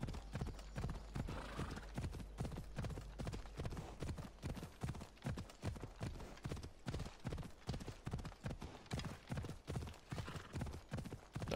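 Horse hooves clip-clopping at a steady riding gait in Assassin's Creed Odyssey, a continuous close rhythmic pattern of hoof strikes with an occasional whinny, no talking.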